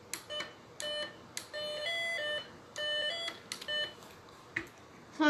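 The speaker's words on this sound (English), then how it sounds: "To show how integrated circuits can also create loud alarm sounds in case" An integrated-circuit electronic kit sounds its alarm in repeated bursts of shrill electronic beeping, each lasting about half a second with short gaps, fairly faint and alone.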